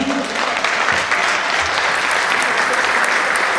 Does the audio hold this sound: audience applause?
yes